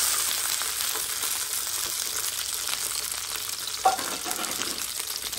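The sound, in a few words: onions frying in oil in a pan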